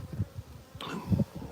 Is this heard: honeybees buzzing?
yes